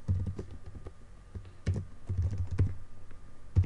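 Typing on a computer keyboard while coding a PHP/Laravel forum site, a close run of quick, uneven key clicks in short bursts with brief pauses between them.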